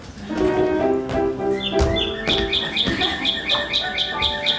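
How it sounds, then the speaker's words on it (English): Clear, whistled northern cardinal song repeats in quick, bright phrases, close and loud, with a steady series of rising chirps toward the end. "That's a cardinal, the state bird of Illinois."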